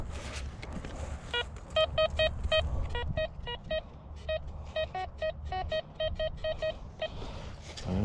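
A metal detector sweeps over a buried target outdoors, giving repeated short, bright beeps in a quick, steady rhythm with brief gaps, clear and close over faint ambient noise.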